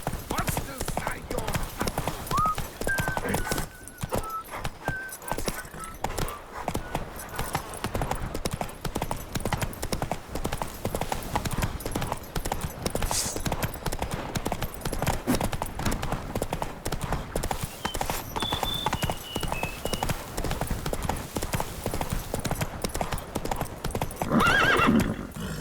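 Hooves of Roach, a horse in The Witcher 3: Wild Hunt Blood and Wine, clip-clop steadily at a gallop, with an occasional whinny and a voice calling over the rhythm.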